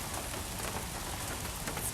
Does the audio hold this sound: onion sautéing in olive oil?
no